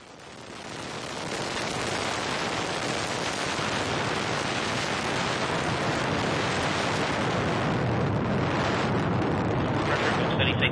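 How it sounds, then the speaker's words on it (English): Delta II rocket carrying the NOAA-N Prime satellite lifting off, a broad continuous roar that swells in the first seconds and then holds steady and loud, rumbling and hissing. "And liftoff of the Delta II rocket with NOAA-N Prime"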